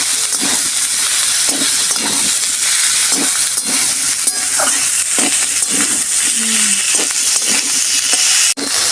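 Ginger paste frying in a hot pan, a loud continuous sizzle and hiss with occasional soft scrapes as it is stirred, close and steady throughout.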